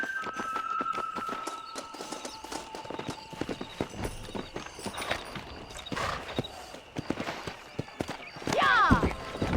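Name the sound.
horse galloping in video game Red Dead Redemption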